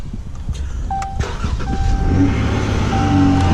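A supercharged 2016 Dodge Charger SXT engine turns over and catches, settling into a steady, loud rumble with a faint supercharger whine riding above it.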